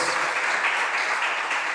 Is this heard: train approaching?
no